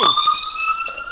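An ambulance siren wails steadily in the background behind a call-in radio line from the Bronx, holding a continuous two-tone sweep that stays fairly loud throughout.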